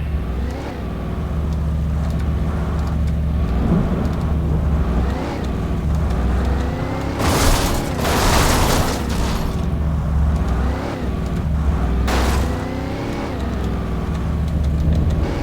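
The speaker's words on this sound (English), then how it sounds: "Oh, the car is great." Car engine in Alan Wake Remastered drones and revs continuously as the vehicle drives, with rising and falling pitch and brief bursts of crashing impacts, loud and steady throughout.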